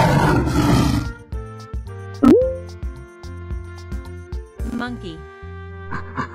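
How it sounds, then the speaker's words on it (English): A lion's roar rises in one loud, brief burst partway through, followed by a faint second growl, set among short musical tones with no talking. "Lion."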